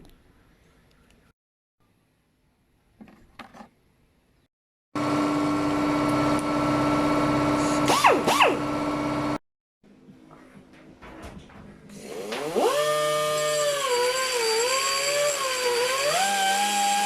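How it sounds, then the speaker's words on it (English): Grinder working on a crankshaft during dynamic balancing, two loud sustained bursts of whining, rising-and-falling motor tone separated by a short quiet gap, with faint clicks before. "So I grinded a little bit inside there."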